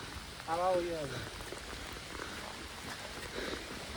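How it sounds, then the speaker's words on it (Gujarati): Rain falls steadily at Banbha hill station, an even hiss of drops throughout. A voice speaks briefly near the start. "વરસાદ આવે છે"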